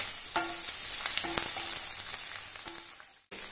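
Green chillies and a small onion sizzle loudly in three tablespoons of hot oil in a pan, a steady close frying hiss with a few scraping stirs, cut off abruptly near the end.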